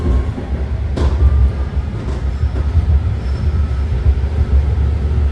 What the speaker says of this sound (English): here we are pulling out of the San Francisco International Airport with our next stop being Millbrae